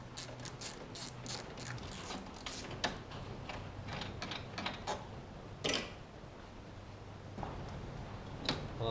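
Ratchet wrench clicking in quick bursts as 13mm bolts holding the radiator are loosened on a 2003 Chevy Tahoe, close and fairly steady, with a few sharper clunks along the way.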